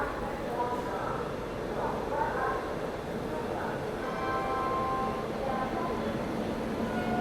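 The Howrah Rajdhani 12301, hauled by a WAP-7 locomotive, pulls into platform 1 at Kanpur Central in the rain, a steady loud rumble filling the whole stretch, with a voice talking over it.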